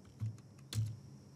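A username being typed on a computer keyboard: a few soft key taps and two heavier thumps close by, with no talking over them.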